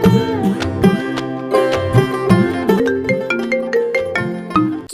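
A mobile phone ringtone plays loudly and close, a repeating melodic pattern of bright tones that carries on steadily without any talk.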